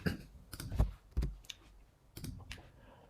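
Computer mouse clicks, several sharp, light taps spaced irregularly over a few seconds, quiet and close with no other sound.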